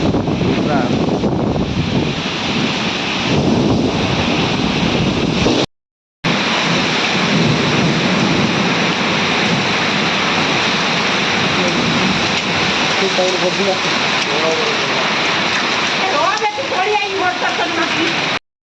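A pre-monsoon nor'wester thunderstorm pounds a village in Odisha with heavy rain and hail, a loud, dense, unbroken roar that drops out for a moment before resuming, with thunder rumbling low and voices faintly mixed in.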